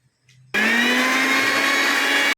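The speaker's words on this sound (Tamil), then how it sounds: "இதை 3த்தையும் அப்படியே போட்டு அரைக்க போகிறோம்." A kitchen blender starts abruptly after a brief clatter and roars at a steady high pitch while grinding coriander, mint, green chillies and curry leaves for green chicken 65, then cuts off sharply.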